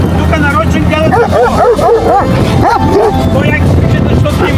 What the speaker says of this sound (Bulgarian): Тука и кучета!